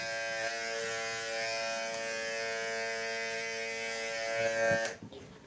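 An electric hair clipper buzzes steadily and close during a high buzz fade haircut, a continuous tonal hum that cuts off abruptly near the end.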